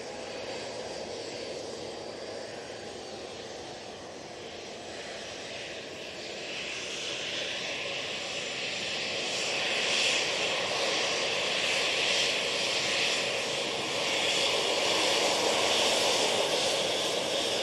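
A KLM airliner at Manchester Airport gives a steady broadband roar, moderately loud and swelling gradually over about eighteen seconds, heard at a distance with no talk.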